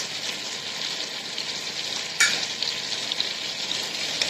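Okra and sliced green chilies sizzle steadily in a hot pan, with a sharp scrape of stirring partway through and continued crackling frying afterward, close and without voices.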